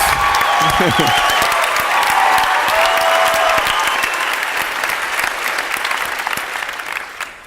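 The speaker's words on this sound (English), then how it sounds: "They're clapping for you, not us." A live audience at a Pod Save America taping in Washington, D.C. breaks into loud, sustained applause that carries on for several seconds and eases slightly near the end, with a voice briefly audible at the start.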